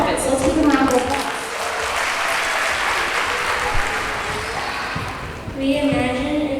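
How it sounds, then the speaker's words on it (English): Audience applause at a spring concert, a sustained, dense wash of clapping from a large crowd that swells at the start and again near the end, with faint music or voices underneath. "let's give them a round of applause"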